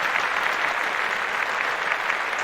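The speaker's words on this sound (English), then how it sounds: "We need that clap." A canned applause effect triggered from a soundboard deck during a live tech talk show, a steady, uniform burst of crowd clapping at moderate level with no voices on top.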